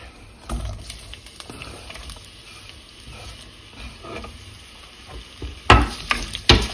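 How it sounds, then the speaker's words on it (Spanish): Onion sautéing in a little oil in a saucepan gives a steady close sizzle and crackle, with a few louder stirring clatters near the end and no one talking. "La voy a dejar aquí a que empiece a sofreírse."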